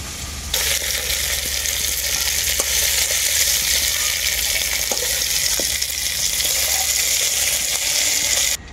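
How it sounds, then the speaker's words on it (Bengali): Okra (bhindi) sizzles steadily as it fries in a pan, a loud, even hiss that starts abruptly and runs without a break, with a few faint clicks of stirring and no talk. "ভেন্ডিটাকে আমি হালকা করে ভেজে নিয়েছি"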